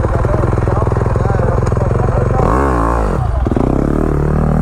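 A Yamaha YZ250F dirt bike engine runs loud and close with a rapid, buzzing idle, rising into a brief rev partway through before settling back to a steady throb.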